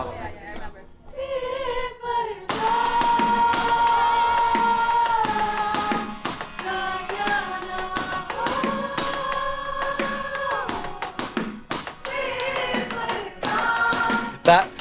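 Dull rubbery taps and thuds from electronic drum kit pads beat in an irregular rhythm, with singing voices carrying over them throughout.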